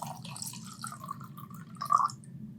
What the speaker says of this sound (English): I'm gonna let my audience hear the beautiful sound of me pouring wine